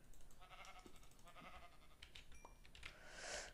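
Sheep bleating inside a video game, several short bleats spread across the moment, fairly quiet against a busy background of game sounds and soft clicking.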